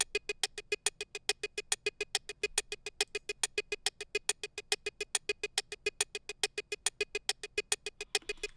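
A percussive synth part from a custom Signal patch pulses in fast, even clicks in a steady four-on-the-floor rhythm, crisp and bright, running alone throughout.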